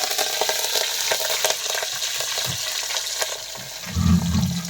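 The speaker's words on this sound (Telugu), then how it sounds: "కరివేపాకు వేసుకోవాలి." Curry leaves hit hot oil for tomato chutney, making close, crackling sizzles that pop in irregular bursts and end in a louder spurt of frying.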